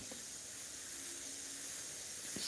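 Iwata airbrush spraying Createx paint in a light dusting pass, giving a steady close hiss throughout with a couple of faint clicks.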